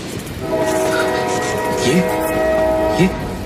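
A passenger train runs on rails with a steady rumble and sustained horn-like tones, the ride continuous for the few seconds, with a couple of brief clicks.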